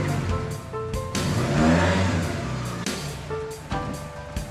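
A Mk1 Ford Escort fitted with an ST170 engine revs hard on a dyno, its engine note swelling to a loud sweep and then dropping back, followed by several sharp blips and pops nearby.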